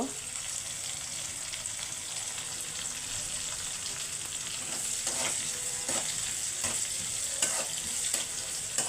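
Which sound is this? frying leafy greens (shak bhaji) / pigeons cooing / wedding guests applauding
frying leafy greens (shak bhaji)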